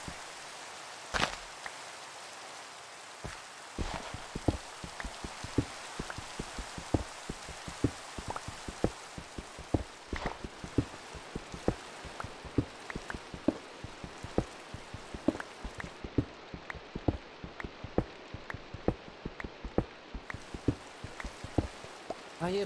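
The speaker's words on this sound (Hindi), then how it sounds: "भाई ये बारिश वाला मौसम है इतना खराब लगता है मेरे को।" Minecraft rain pattering steadily throughout, with many distinct drop impacts ticking over a soft constant hiss, moderately loud and without speech.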